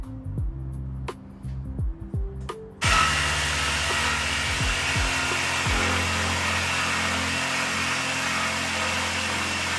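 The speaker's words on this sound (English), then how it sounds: "our drill bit, which is right in the center there, should follow perfectly down the line of that we want to cut" A drill bit cut along a line through wood, preceded by a few sharp knocks and handling sounds, then a loud, steady grinding whir that runs on without pause to the end.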